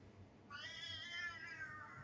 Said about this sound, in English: That's the cat, Rico.